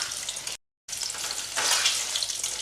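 Eggs frying in a pan for a Bengali egg curry and being turned over, a steady close sizzle with a brief silent gap and then a louder hiss as the eggs are flipped.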